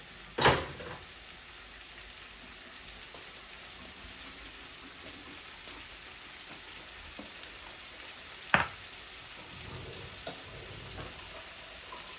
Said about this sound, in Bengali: এই মাছ ভাজিটা আস্তে আস্তে হোক